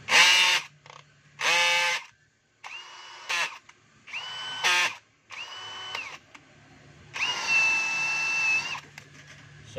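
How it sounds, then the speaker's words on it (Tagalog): A power drill drives a screw in repeated short bursts, each whine starting and stopping sharply, close and loud with quiet gaps between runs and one longer final burst. "Ayan po, nakalagay po siya sa drill."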